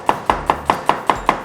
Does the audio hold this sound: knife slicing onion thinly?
yes